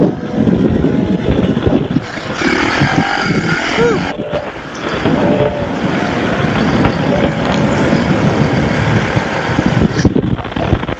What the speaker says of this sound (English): RS1 likes to rev, but it doesn't have the torque.